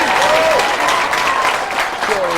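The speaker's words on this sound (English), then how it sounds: "How about a big round of applause, everybody, for Pete Edge?" Studio audience applause on the Scrambled Squares game show, a dense steady burst of clapping with a few cheers, loud and continuous, with a host's voice briefly over it.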